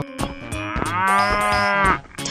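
A cow in a 3D animal slide video game lets out one long, loud, drawn-out moo, preceded by a few short bursts, heard alone with nothing else over it.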